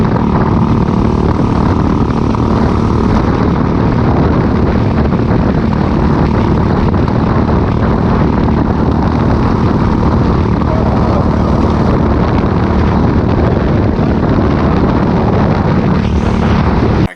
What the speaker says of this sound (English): Hear the valves getting louder